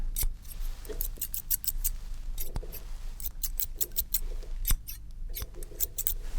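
Close, crisp snips of scissors come in quick bursts and pauses, with a few sharp metallic clicks between cuts.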